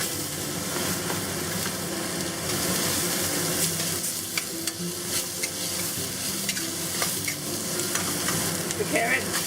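Onion, ginger and garlic hit hot oil in a wok over medium-high heat and crackle in a loud, continuous sizzle, with scattered stirring clicks and scrapes throughout and no talking.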